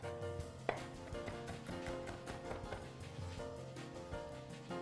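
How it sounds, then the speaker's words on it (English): A knife rapidly minces garlic cloves on a cutting board, a steady stream of close chopping taps throughout. "I don't know if you know how to mash garlic, but this is what I like to do. I like to start by mincing it."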